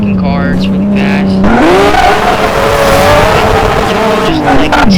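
A Porsche 911 GT3 tears along at speed, its engine note climbing and sliding while tires squeal, loud and close throughout, with a voice talking over the driving.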